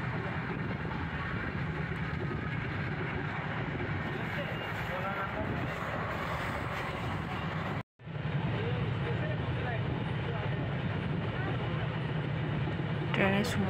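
A long-distance train rolls along on a journey of more than thirty hours toward Bangalore, a steady rumble with a brief dropout near the middle.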